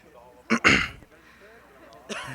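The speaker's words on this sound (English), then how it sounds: "You got to clear your throat for this one?" Someone clears their throat in two quick rough bursts, close and fairly loud, followed by quiet room noise and a brief sound at the end.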